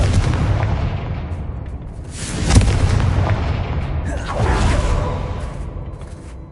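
Confringo blasting spell from a Harry Potter video game bursts into a loud, close explosion with a sharp boom and whooshing rush, followed by a second rolling blast over a constant rumbling game soundscape.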